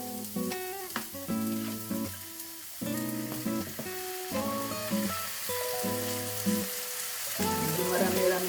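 Sliced pickled mustard leaves sauté in a hot frying pan, giving a continuous close sizzle and crackle beneath a strongly tonal background.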